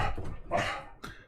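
A small dog gives two or three quick, sharp barks at close range, with a brief gap between them, in a quiet house.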